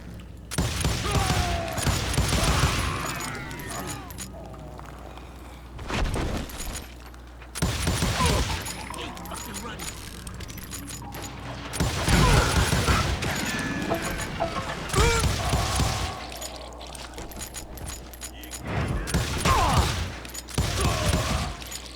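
Gunfire rings out in the Western shooter game Call of Juarez: Gunslinger, with loud bursts of shots and mechanical clatter arriving in clusters separated by short lulls.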